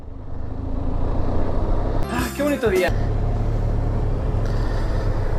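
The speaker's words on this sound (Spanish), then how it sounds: "qué lindo es andar en moto" A Benelli TRK 502 motorcycle on an open road, with a steady engine and wind rumble throughout and a man briefly exclaiming over it partway through.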